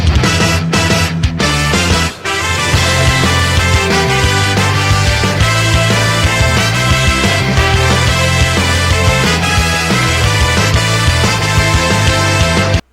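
A full, dense AI-generated song with steady beat and layered instruments plays loudly and continuously, a brief dropout near the start, no voices talking over it.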